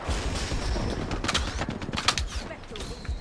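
Gunfire in a video game: rapid, crackling bursts of shots, some sharper and nearer, rattle over a dense background of battle noise at moderate loudness.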